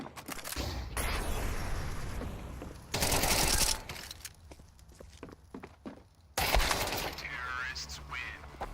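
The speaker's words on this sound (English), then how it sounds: "Deploying flashbang" A flashbang grenade deployed in a video game: loud bursts of harsh crackling blast noise over sustained in-game gunfire and commotion, with a sharp jump in loudness near the end.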